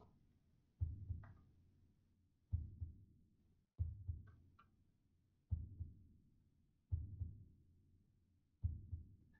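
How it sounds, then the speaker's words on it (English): Heartbeat in a Backrooms horror video game, a slow steady series of six thudding double beats, low and muffled, alone against near silence. "There's a heartbeat."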